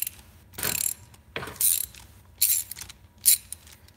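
Socket wrench being handled during small engine head work, a series of close, sharp ratcheting clicks in short bursts separated by brief pauses.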